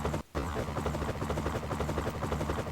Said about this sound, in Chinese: 来了一个运输直升机